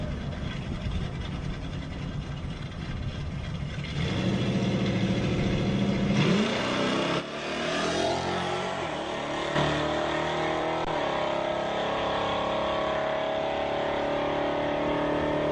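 A little Chevy Camaro makes a drag racing run in division ET finals, its engine loud and revving hard as it launches and pulls away, the pitch climbing through the gears and then holding a steady roar.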